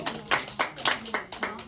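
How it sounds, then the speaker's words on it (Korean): A church youth congregation at a Sunday service claps in a steady rhythmic beat, about six evenly spaced claps in under two seconds, close and clear. "훌륭한데 박수 할까요?"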